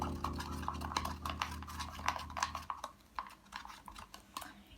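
Acrylic paint mixture stirred in a cup for an acrylic pouring project, quick repeated clinking and scraping strokes, close and fairly quiet, with a low hum fading out partway.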